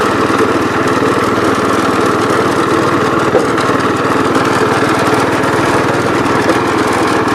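A 1973 John Deere 110 lawn tractor engine runs at a steady, loud drone close by, its even rumble unbroken throughout with no talking.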